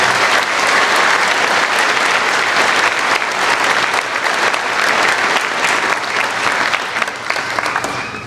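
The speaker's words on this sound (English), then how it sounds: "Please give a round of applause to our local scholarship donors." Sustained audience applause fills a high school commencement hall, a dense, steady wash of many hands clapping at close range with little talk, tapering slightly near the end.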